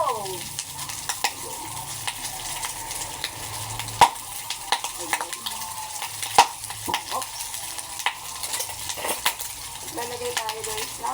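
Tofu and pork fry and sizzle in oil in a pan, with a spatula scraping and stirring through them in repeated close metallic strokes over a continuous crackle.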